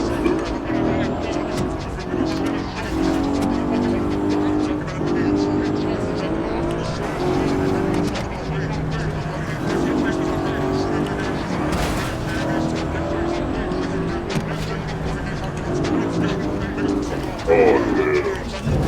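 A video game car engine revs and shifts continuously with tire noise and whooshes, while a person talks over it throughout.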